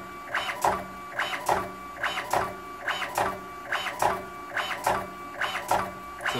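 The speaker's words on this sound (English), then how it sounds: "So it'll attempt to emboss, including even empty fingers" Datacard 150i card printer embossing a test card, seven evenly spaced mechanical strikes, each a sharp clack with a whirring pass, close and fairly quiet.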